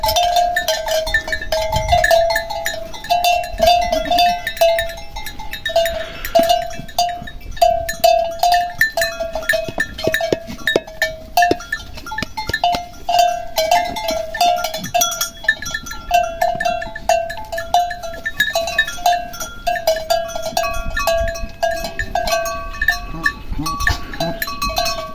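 Goats from the caatinga scrub bleat repeatedly while cowbells clank and tinkle steadily around a rural farm feeding spot, loud and close.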